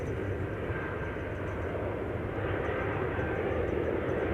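An Embraer E2 jet takes off from runway 18 Left at Amsterdam Schiphol, its engines a continuous heavy roar with a faint whine on top, steady and moderately distant, alone without talk.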